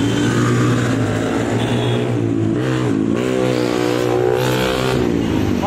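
Ordinary motorbikes rev and pass on a road in Madhyamgram, loud and close, with the engine pitch rising and falling steadily throughout.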